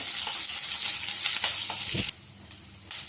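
Curry leaves hit hot oil with a loud, close crackling sizzle for about two seconds, then it cuts out to near quiet with a couple of short spitting bursts.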